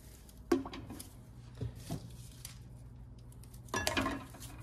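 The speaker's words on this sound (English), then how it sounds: "So we're loading up the pressure cooker." Glass canning jars are loaded into a pressure cooker, giving a few scattered clinks and knocks of glass against metal with quiet handling noise between them, the loudest clatter near the end.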